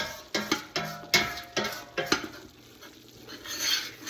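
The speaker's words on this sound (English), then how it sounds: "And you gotta keep scraping, keep stirring. Scrape the sides of your pot." A spoon stirs and scrapes the sides of a pot of sausage, chicken and shrimp gumbo, striking the metal in a quick rhythm of sharp scrapes, then easing into softer stirring over a faint bubbling sizzle.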